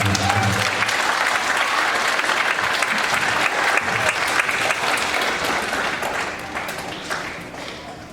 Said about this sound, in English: Let's give Pastor Mata a big round of applause.